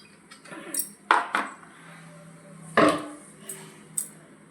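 A pan is set on the stove and oil goes in for deep-frying bitter gourd, heard as a few sharp metallic clanks and knocks of cookware, close and otherwise quiet.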